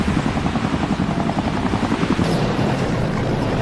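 Rescue helicopter hovering low over water in strong wind, a loud continuous rotor thump with rhythmic beating and heavy broadband wind noise, steady throughout with no talk.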